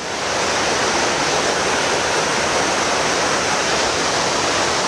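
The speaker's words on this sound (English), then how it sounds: "look at where the water is pounding that corner" Water from a flooding brook pounds against a corner of the bank in a loud, steady roaring rush with no pauses and no voices.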